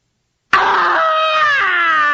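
Scrooge, a man in a Christmas Carol audio drama, lets out a sudden loud, anguished scream after silence, sustained and wavering for over a second and a half, close and alone.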